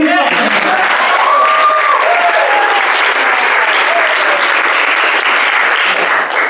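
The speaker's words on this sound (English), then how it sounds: "big round of applause to them" A crowd at a Build Day closing ceremony applauds student helpers: loud, continuous clapping from many hands filling the whole stretch, with some faint voices mixed underneath.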